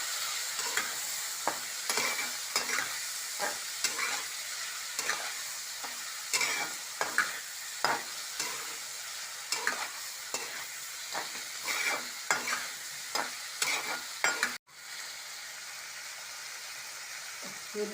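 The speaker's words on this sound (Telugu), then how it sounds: "ఇదంతా కలుపుకోవాలి" Green beans (long beans) frying in a pan are stirred repeatedly, giving steady rhythmic scraping over a constant close sizzle that runs alone with no talk, cutting briefly near the end before the sizzle resumes.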